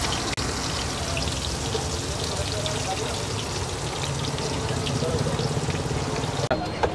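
Cumin seeds sizzle in hot oil for the tempering of Kolhapuri misal, a dense, steady crackling hiss that carries on throughout, with people talking over it.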